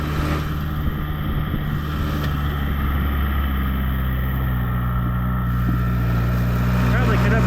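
Ford 6610 tractor engine revved to high RPM while spreading manure, a loud steady drone with constant low rumble that holds throughout, a voice speaking briefly over it.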